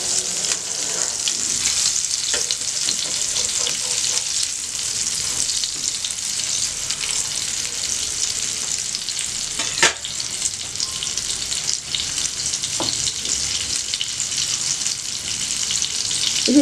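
Cauliflower chicken patties fry in a pan with only a little oil, giving a steady, close sizzle throughout, with a brief clatter partway through as they are gently turned.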